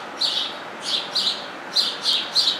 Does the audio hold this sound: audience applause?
no